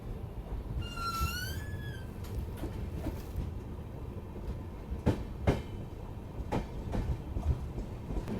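A passenger train pulling out of Phalodi Junction railway station on the way to Jaisalmer, a steady rumble of rolling wagons with sharp clacks over rail joints and a brief high wheel squeal, heard from inside the coach.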